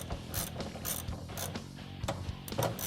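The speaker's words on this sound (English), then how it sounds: "You're going to start by removing the bolts from your clutch cover." Quick, faint clicking bursts of a ratchet with a 10mm socket loosening clutch cover bolts on a Kawasaki Teryx KRX 1000, repeated in short irregular runs up close.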